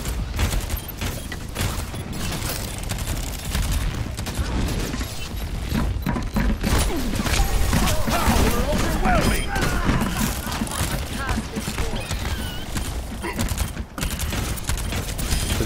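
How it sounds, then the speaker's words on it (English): Dense, continuous automatic gunfire from a turret in the video game Overwatch during a ranked match, a steady rattling fusillade with thuds and booms running throughout, loud and busy with a faint voice beneath. "His Wayne's turret is tearing him apart."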